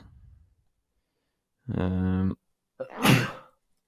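A single sneeze bursts out sharply after a brief voiced breath, then fades into quiet.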